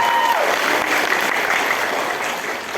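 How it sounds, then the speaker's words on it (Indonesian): Crowd applause at a company leadership gathering rises loud and close, then tapers slightly over a few seconds with no talk on top. "Tepuk tangan buat teman-teman semuanya."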